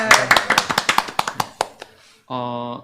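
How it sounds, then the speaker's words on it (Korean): A small audience at a Korean book talk concert claps in a short burst of separate, distinct hand claps that tapers off, followed by a steady tonal hum. "박수 한번"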